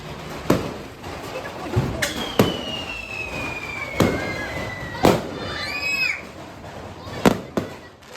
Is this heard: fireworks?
yes